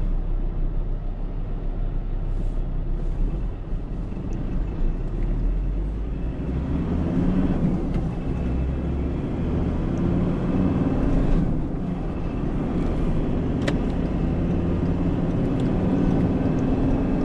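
Car cruising on a freeway during an afternoon commute, a loud continuous road and engine roar heard from inside the cabin, with a few light knocks and rattles.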